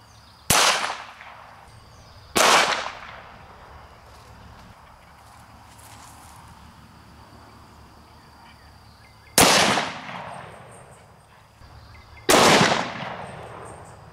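Four sharp rifle shots into a wooden target from a .22 and a .221 Remington Fireball, loud and close outdoors, fired in two spaced pairs with ringing decay after each, no talking.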